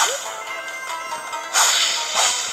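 Quick whooshing Fruit Ninja slashes cut through a hissy background in the game Monsters Dash, with two sharper swipes near the end.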